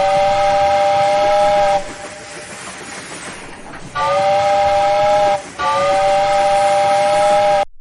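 An arriving steam train sounds its loud, sustained whistle in three long blasts separated by short gaps of rumbling, hissing railway noise, heard up close with no talking.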